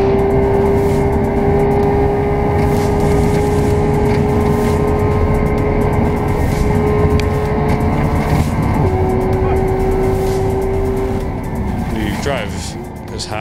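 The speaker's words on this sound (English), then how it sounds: "The only thing we've done is put an Akrapovic exhaust just to make it sound nice." A Porsche 991 GT3 fitted with an Akrapovic exhaust races in the Targa Tasmania event, its engine droning loudly with a sustained high tone that shifts pitch as it accelerates, while a person talks over it.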